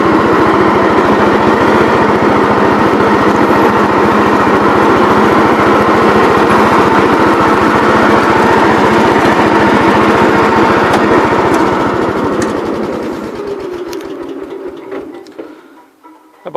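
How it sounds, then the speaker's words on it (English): A riding tractor engine runs nearby with a steady, buzzing drone that holds for a long stretch, then winds down and cuts out near the end. "this was my third riding tractor, but the first one that actually ran."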